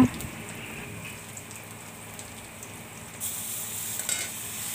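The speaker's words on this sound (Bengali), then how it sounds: "তো এখন আমি দিয়ে দেব সামান্য একটু রসুনের বাটা" A small spoonful of garlic paste going into hot oil in a pan: a soft, steady sizzle that brightens and grows louder partway through, close and fairly quiet, with no talk.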